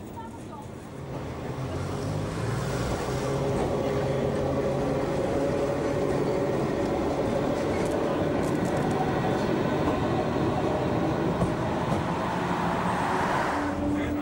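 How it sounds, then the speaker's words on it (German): Historic Berlin T24 tram with its matching trailer car on a special run to Schmöckwitz, a steady rolling rumble with rail hum and squeal that stays loud and close throughout. "Bei dieser Sonderfahrt ist der Zug nach Schmöckwitz unterwegs."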